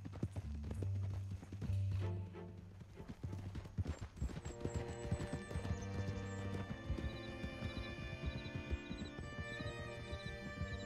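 Horse hooves clip-clopping steadily while riding in Red Dead Redemption 2, a rhythmic trot under a low rumbling background, with a brief whinny at the start.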